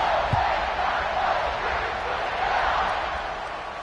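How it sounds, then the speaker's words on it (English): A stadium crowd roars in a sustained, dense wash of cheering at an OSU versus Syracuse college football game after a touchdown. The noise holds steady at close range and eases slightly toward the end. "this crowd is feeling themselves after that last drive"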